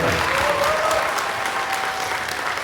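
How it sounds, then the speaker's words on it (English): Audience at a convention panel at WA Summer Con claps in a short, dense burst of applause, steady and fairly close for a couple of seconds. "Everyone give a round of applause for Toshinori"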